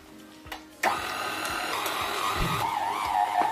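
A stand mixer kneads pain au chocolat pastry dough at a very slow speed, giving a steady, fairly loud motor whir with a whining tone that holds and shifts slightly across the clip, starting after a brief quiet moment.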